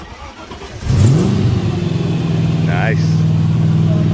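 A TVR Chimera V8 engine cranks and catches with a sudden loud start, then settles into a deep, steady idle with a brief rev, close by, while people talk nearby.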